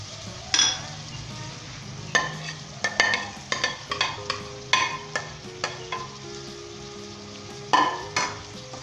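Chicken and spices fry and are stirred in a pan for a chicken and spinach curry, a soft sizzle under repeated sharp clinks and scrapes of a spoon against the pan.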